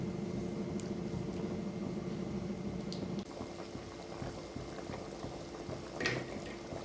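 Cauliflower gravy simmers in a pot, giving a faint, steady bubbling and soft liquid popping close by, with no voices.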